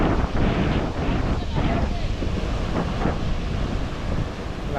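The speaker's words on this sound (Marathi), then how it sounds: "लाटा पण खूप मारतायत." Sea waves crash along the Konkan coast during monsoon rod fishing, a loud, continuous roar of surf heavily mixed with wind buffeting the microphone.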